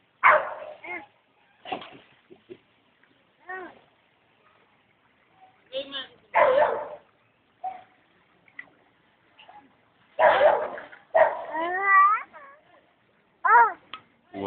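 A dog barks in short, irregular bursts during a flood, fairly close, with a voice and other voices talking in between and whimpering yips at times.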